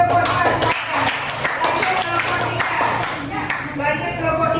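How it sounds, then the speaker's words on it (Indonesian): A group of students applauds in a classroom, a burst of dense, close hand clapping that runs for several seconds while a teacher's voice sounds over it. "Kasih aplaus lagi untuk kelompok 2."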